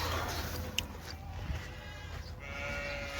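A goat in a village in Saudi Arabia gives a faint bleat over quiet outdoor background noise, with a couple of short soft cries heard at a distance.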